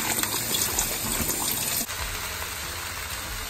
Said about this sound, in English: I'm going to use 1 tin of chickpeas and very quickly drain them and